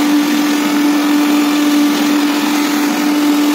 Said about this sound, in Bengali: তারপর আবারও ব্লেন্ড করে নিচ্ছি